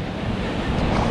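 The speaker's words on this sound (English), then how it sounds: "The waves look exactly the same." Ocean surf breaks along an Outer Banks beach, a loud, broad rushing wash mixed with wind buffeting the microphone, steady for about a second.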